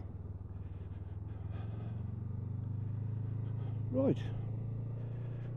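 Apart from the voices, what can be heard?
new Honda CMX 500 Rebel motorcycle being ridden, running in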